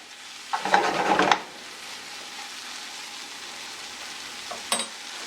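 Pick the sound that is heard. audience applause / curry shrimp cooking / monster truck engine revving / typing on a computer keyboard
curry shrimp cooking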